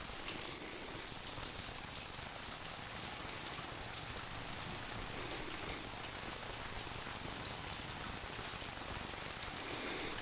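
Steady, dense rain falls at Incheon airport, a constant close hiss of drops on surfaces with no pauses or voices.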